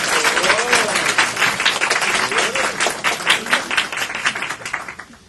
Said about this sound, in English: a big round of applause for Judy Humphreys Satori